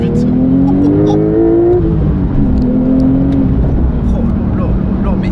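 A Porsche 911 Sport Classic pulls hard out of a small village in first gear. Its engine roars loud and close, the pitch climbing steadily before easing and then building again.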